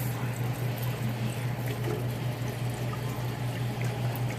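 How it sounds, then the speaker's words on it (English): Liquid poured steadily into a pot-roast gravy while it is whisked to keep out lumps, giving a continuous close watery rush over a low steady hum, with no talking. "we're going to continue to whisk while we're pouring"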